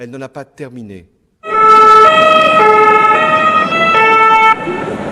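A loud wailing ambulance siren starts after a brief bit of speech, its steady tones cycling up and down over road traffic noise.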